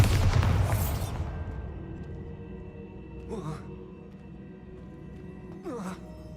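A Bombarda spell blast in Hogwarts Legacy, a loud booming burst at the start that decays over about a second into a quieter game soundscape, with two short, sweeping whooshing effects following later.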